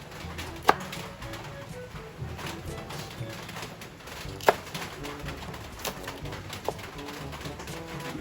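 A knife chops chili peppers on a board at home, a few sharp, isolated knocks spaced seconds apart, with pigeons cooing softly in the background.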